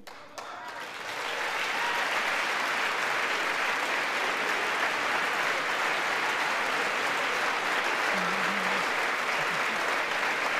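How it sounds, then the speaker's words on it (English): Dense, sustained applause fills the House chamber, rising within the first second and holding steady at full strength as a large crowd of lawmakers claps together. "applaud for Ronald Reagan"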